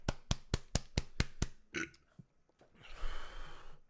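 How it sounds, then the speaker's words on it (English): A man burps after gulping a foamy fizzy drink, a quick train of about eight sharp rhythmic bursts followed by a couple of looser belches and breathy exhales, close and fairly quiet. "I can finally burp"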